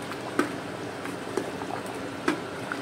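A salted dish bubbling steadily in a pot as it cooks, a soft continuous simmer with a few small pops, fairly quiet and with no talking.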